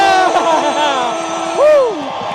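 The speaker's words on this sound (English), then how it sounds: "Boston, give a round of applause for the Dropkick Murphys" A large outdoor rally crowd on Boston's City Hall Plaza cheers and whoops for the Dropkick Murphys, with sustained massed shouts and rising and falling yells close by and loud throughout.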